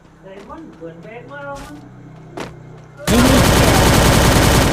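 Loud, sustained automatic gunfire in the video game Free Fire comes in abruptly after a stretch of voice and erupts into a dense, continuous burst that fills the rest of the moment.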